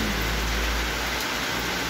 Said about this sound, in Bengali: দেখো বাইরে ভীষণ বৃষ্টি হচ্ছে